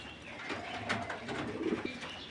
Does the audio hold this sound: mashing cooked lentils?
no